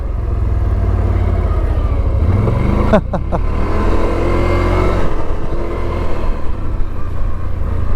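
A 2025 CFORCE 1000 Overland ATV engine running steadily while being ridden, a loud, continuous close-up drone with a brief rise in revs partway through and no talk.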